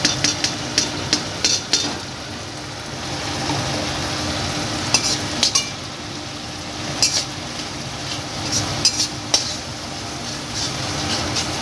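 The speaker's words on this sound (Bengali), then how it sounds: "মশলাটা দেওয়ার পর এবার ভালো করে কষিয়ে নেব।" Cumin, ginger and garam masala paste for khichuri sautéed in a pan, a constant low sizzle broken by repeated sharp spatula knocks and scrapes in small clusters.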